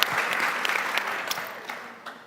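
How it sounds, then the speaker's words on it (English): Audience applause at the Arab American convention ArabCon 2025: a steady, dense wash of clapping from a crowd fills the room, sustained and fairly loud before gradually tapering off. "can clap for that"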